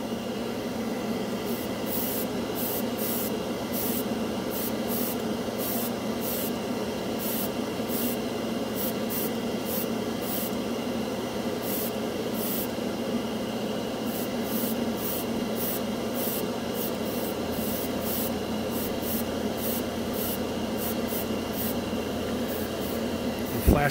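Tamiya X27 Clear Red paint hissing from an airbrush in a steady, continuous spray, with short repeated bursts riding over a constant compressor or air hum.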